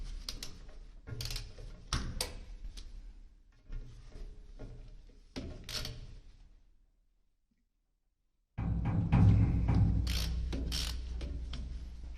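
Knife bolts on a Timberwolf 150 wood chipper being loosened with a wrench, giving repeated close metallic ratcheting clicks in short bursts, a brief silent pause, then a louder, denser stretch of clanking mechanism noise.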